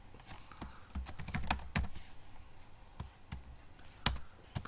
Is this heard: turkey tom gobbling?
no